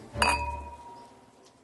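Glasses clink together in a toast: one bright, sharp chime that rings on and slowly fades, close and clear.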